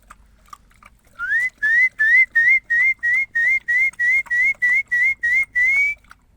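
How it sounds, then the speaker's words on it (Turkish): A person whistles a quick series of about fourteen short, identical rising notes at a steady rhythm, loud and close, calling animals to food, with no other sound between the notes. "Ee, yine bir ıslık çalım gelirse bakalım."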